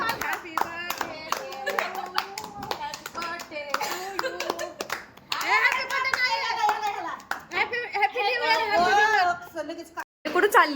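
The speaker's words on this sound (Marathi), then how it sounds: "टाळ्या वाजव ना" A small child claps hands at a New Year celebration, with bursts of quick, light claps scattered between excited talking and a voice, all close and lively.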